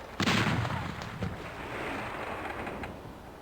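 A single loud cannon shot from the naval video game Battle Navigation, a sharp booming blast near the start that rolls off into a lingering rumble.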